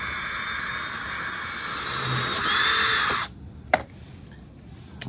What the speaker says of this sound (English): now I'm gonna move up to my next size drill bit